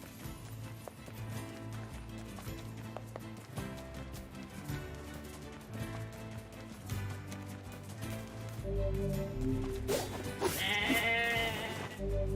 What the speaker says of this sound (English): I have to kill a sheep.